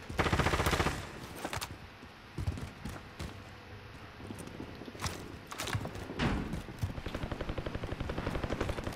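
Gunfire in the video game Call of Duty: Modern Warfare: scattered loud shots and bursts that turn into a dense rapid volley near the end, over steady game background noise.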